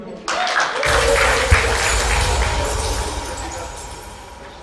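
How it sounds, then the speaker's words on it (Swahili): Audience applause swells into dense, sustained clapping that holds strongly and slowly tapers, with voices mixed in. "Haya pigiani laingo makofi"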